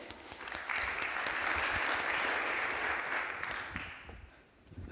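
An audience at the DappCon crypto conference breaks into applause, a dense, steady wash of many hands clapping that swells quickly, holds for several seconds, then tapers off near the end.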